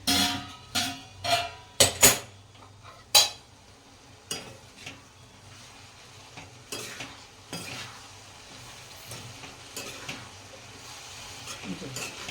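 A spoon clatters and scrapes loudly against a pot while spring onion and carrot curry is stirred, sharp knocks at first easing into softer, steady sizzling and occasional taps, with a voice speaking at times.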